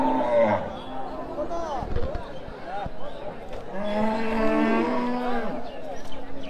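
Cattle and bulls at a large cow market lowing repeatedly, several long moos rising and falling over a busy crowd murmur, fairly close and loud, with people talking in the background.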